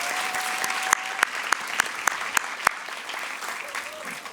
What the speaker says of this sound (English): give all the staff members, including those who put on this event, a round of applause